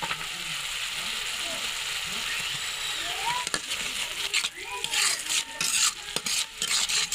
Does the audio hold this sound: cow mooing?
no